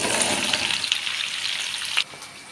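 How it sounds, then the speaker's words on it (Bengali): Onions sizzle steadily as they fry in a pan, a close, even hiss that carries for about two seconds and then suddenly drops away. "এবার পেঁয়াজটা একটু ভালো করে ভেজে নিই"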